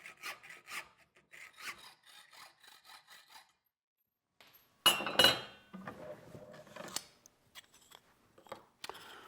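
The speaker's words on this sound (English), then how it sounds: "I've got a hacksaw. The first thing I'm going to do is cut the blade to length" Hacksaw cutting a steel knife blade clamped in a vise: rhythmic rasping strokes, a brief pause, then a louder burst of scraping and metallic clatter, with no voices.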